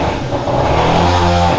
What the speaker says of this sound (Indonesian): Mai, itu suara motor papanya kan ya?